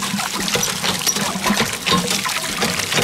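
Well water being poured out in uneven splashing gushes and trickles, close and fairly loud, continuing throughout with no talking.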